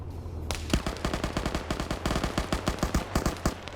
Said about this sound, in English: is he shooting at the tank coming in?